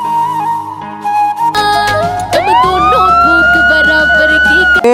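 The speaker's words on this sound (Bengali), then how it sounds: "জলদি করে পুলিশের সাইরেন দিয়ে দাও এটাতে" Police siren sound effect, loud and close, with wailing tones sweeping up and a pulsing electronic beat underneath, preceded by a steady tone.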